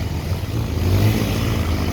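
At the Makalbari bus park, a nearby vehicle's engine rumbles and revs steadily, with traffic noise filling the short stretch.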